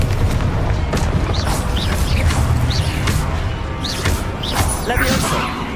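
Repeated spell blasts in the video game Hogwarts Legacy, a string of booming explosions and whooshing magic hits landing every second or so over a constant rumbling battle bed, loud and dense.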